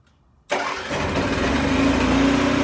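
A 2010 Winnebago Vista 26P Class A motorhome generator starts after its fuel pump is primed, a quick catch followed by a steady, loud, close idle drone.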